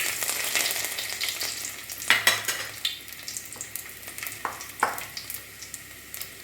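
Garlic cloves and mustard seeds frying in hot oil for cauliflower thoran, a continuous loud sizzle with spattering crackles and a few metallic stirring clinks, no voices.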